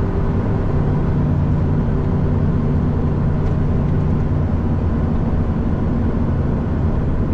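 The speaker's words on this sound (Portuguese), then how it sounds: "Só no freio motor, rapaziada. Sem pisar no freio." A heavy truck holds eighth gear while descending a mountain road on the engine brake at about 50 km/h, giving a loud, constant, rumbling drone with steady road noise and no breaks.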